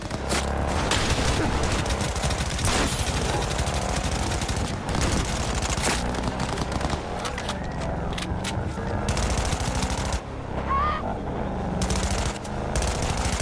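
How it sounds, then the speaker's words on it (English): Gunfire in a video game played on a Nintendo Switch 2: loud, sustained bursts of automatic shots with booms over a dense, continuous din, with a brief dip near the end. "Shoot his fucking head."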